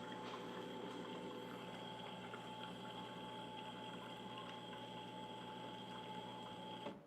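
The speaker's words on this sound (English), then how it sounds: "I'm gonna put some more water there." Steady running water poured into an espresso machine's reservoir, with a mechanical pump hum, continuous and fairly quiet, ending abruptly.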